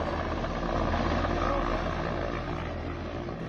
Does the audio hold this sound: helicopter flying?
yes